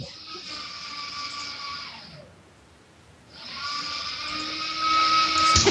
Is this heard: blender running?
yes